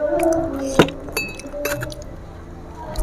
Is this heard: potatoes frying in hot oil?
no